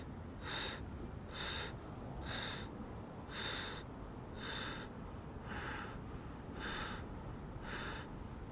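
Rapid breath of fire yoga breathing held in an elbow plank, about nine sharp rhythmic nasal exhalation bursts at a steady pace, close and fairly quiet, with no talk.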